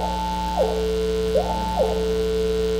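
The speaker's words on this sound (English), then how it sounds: "Hear an arpeggio?" Synthesized electronic arpeggio from a computer music patch, a pure steady tone stepping up and down between pitches in a repeating gliding pattern over a constant low hum, moderately loud with no voices.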